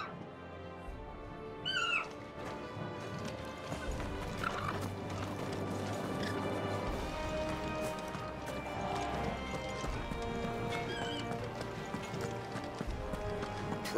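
Horse hooves clip-clop and a horse whinnies in Final Fantasy XVI, set against a dense game soundscape of music and ambience; a brief whinny comes early and the steady hoofbeats run throughout at moderate loudness.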